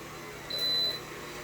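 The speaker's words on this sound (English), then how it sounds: "One thing I don't care for is the beeping sound." A single thin electronic beep from a Bissell SpinWave floor cleaner holds steady for about half a second over a low background hum, fairly faint.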